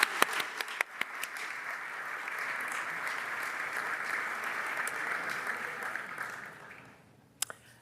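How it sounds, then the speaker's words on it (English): A short round of applause from an evening audience at a leadership event, with a few scattered claps at the start swelling into steady, even clapping that fades out near the end before a couple of final claps. "Quick applause to them."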